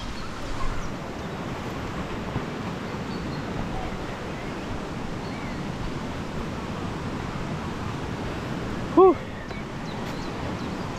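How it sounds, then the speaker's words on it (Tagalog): Steady broadband rushing of a flowing river fills the whole stretch, with a brief sharp sound near the end. "Tunog pa lang ng ilog. Ang ganda na."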